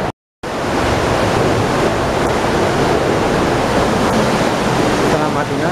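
Waterfall on the Isar river, heard as a loud, steady broadband roar of rushing water, close and continuous after a brief silent gap at the start, with wind buffeting the microphone.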